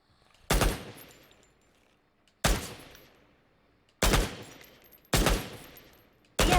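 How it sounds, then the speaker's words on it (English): Weapon fire in a video game shooting-range tutorial on Google Stadia: five sharp, loud single shots spaced irregularly about one to two seconds apart, each with a decaying tail, with no talking. "Reload your weapon and press the fire button to shoot the target."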